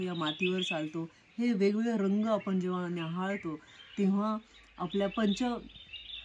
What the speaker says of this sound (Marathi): चिमण्यांचा, पक्ष्यांचा किलबिलाट इकडे ऐकू आला